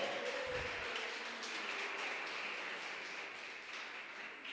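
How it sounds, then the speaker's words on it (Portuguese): A church congregation applauds at a Portuguese-language service, a dense wash of many hands clapping that holds fairly steady and tapers slightly toward the end, with a faint tone lingering early on. "Você pode aplaudir o Senhor?"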